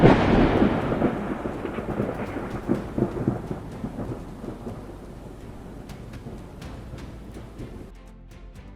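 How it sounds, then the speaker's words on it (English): Heavy storm with a lightning strike near a church steeple: a loud close thunder crack rolls into long rumbling over steady rain, fading gradually with scattered later rumbles. "A bolt of lightning struck the church steeple, illuminating the whole town like a scene from mythology."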